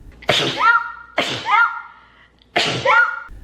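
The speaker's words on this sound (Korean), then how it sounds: "연속적으로 일어나는 발작적인 재채기" Three sharp sneezes come in a quick paroxysmal series, as with allergic rhinitis, each a loud, close burst with short gaps between.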